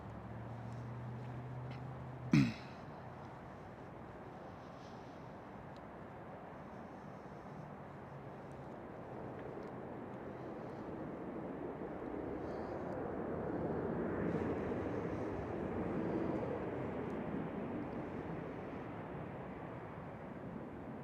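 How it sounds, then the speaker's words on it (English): A KLM Boeing 737 airliner at Schiphol Airport gives a steady, distant broadband roar that slowly swells and fades across the whole stretch, with one sharp brief thump near the start. "the next one is a KLM 737"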